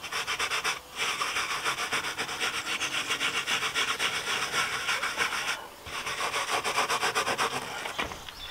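A brush scrubs cleaner into car fabric upholstery in rapid back-and-forth strokes, a loud, close, rhythmic rasping that pauses briefly twice, with no voices.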